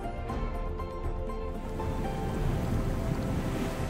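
Surf at Batu Pica beach in Biak Numfor, Indonesia, with waves washing in as a continuous broad roar, mixed with wind buffeting the microphone.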